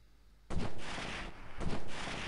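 Enemy gunfire in the shooter game Delta Force, a sudden loud burst of shots starting half a second in and continuing in a dense rattle, with a second cluster near the end.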